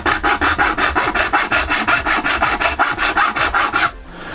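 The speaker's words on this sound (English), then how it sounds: "Okay, so first of all, the hard way, junior hacksaw." A junior hacksaw cutting through a pipe makes loud, close, rhythmic back-and-forth rasping strokes, about four per second, which stop abruptly near the end.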